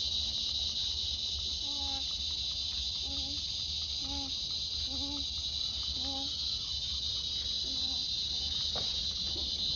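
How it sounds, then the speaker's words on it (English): A loud, continuous high-pitched insect drone of cicadas fills the air, with faint intermittent chirps beneath it. "we think that the obnoxiously loud bugs are cicadas"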